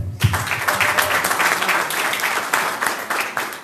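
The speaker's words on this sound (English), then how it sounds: "let's give him a round of applause" A room at a merchant meeting in Hamtramck, Michigan breaks into steady, dense applause, with many hands clapping at close range and no voices over it.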